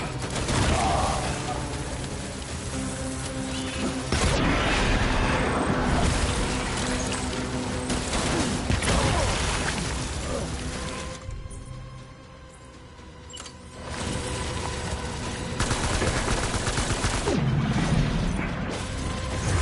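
Dense, continuous gunfire and mechanical clatter from a Death Stranding firefight, a loud, busy wash of shots and impacts with a brief dip in the middle, voices faintly mixed in.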